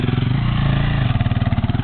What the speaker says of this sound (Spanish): Allá viene otra moto.